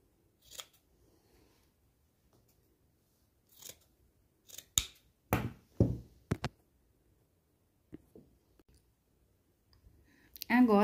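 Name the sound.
trimming a sewn fabric seam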